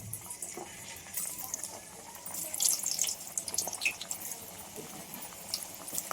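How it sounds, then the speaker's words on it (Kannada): Sliced potatoes deep frying in hot oil in a kadai, a steady close sizzling hiss with scattered bubbling crackles and small pops running throughout. "ಒಂದು ಸ್ವಲ್ಪ ಎಣ್ಣೆ ಕಾದಿದೆ, ಡೀಪ್ ಫ್ರೈ ಮಾಡ್ತಾಯಿದ್ದೀನಿ."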